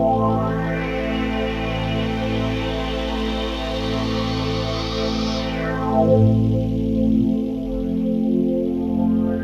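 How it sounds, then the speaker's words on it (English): Goblins patch played on a Yamaha MU2000 synthesizer: a sustained, richly harmonic synth tone with a bright upper layer that fades out partway, leaving a steady lower drone, loud throughout with no talking. "listen to the Goblin's patch on the MU2000 from 25 years ago"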